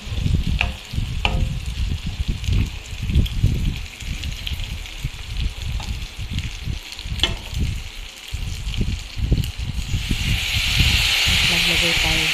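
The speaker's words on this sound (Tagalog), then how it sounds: "halo-haluin natin ulit. Hanggang sa pumula ang karne." Pork humba being stirred in a hot pan, meat sizzling with repeated scraping stir strokes in an uneven rhythm, close and steady, with a louder hiss of steam toward the end.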